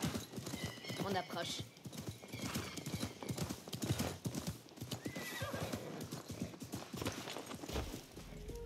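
Hooves clip-clop rapidly while a horse whinnies loudly in the video game Assassin's Creed Mirage, with someone speaking briefly in French over the commotion.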